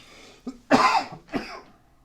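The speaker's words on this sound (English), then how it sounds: "And the coughing begins." Two or three raspy coughs in quick succession, close up, the middle one loudest, with no talking.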